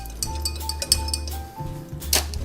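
Bar spoon stirring an old fashioned of Balcones single malt whiskey in a glass, giving light repeated clinks and scraping against the glass at close range, with no talking.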